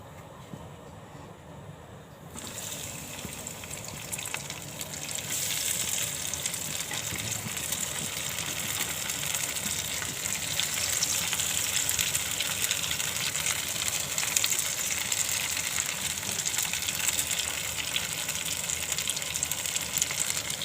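Poha and potato cutlets coated in semolina shallow frying in a pan, a continuous dense sizzle that grows stronger after the first few seconds and holds steady throughout.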